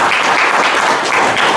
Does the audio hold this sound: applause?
yes